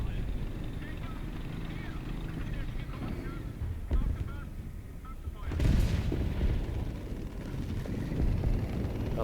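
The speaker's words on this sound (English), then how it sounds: "I'm going to throw some arty down there, see if I can scare him out" Artillery strike in the War Thunder tank game, a burst of heavy impacts landing around 5.5 seconds over a steady low rumble of engine and battlefield noise, with a voice talking throughout.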